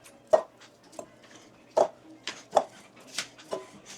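Fried buffalo wings land in a bowl with sauce, giving scattered soft thumps and light clatters against the bowl at irregular intervals, close and fairly quiet.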